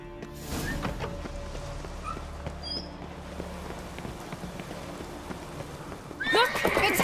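A horse neighs and whinnies in a Witcher 3 video game scene, with hoof clops and rain-like ambience, a louder burst of whinnying near the end, and faint voices in the background.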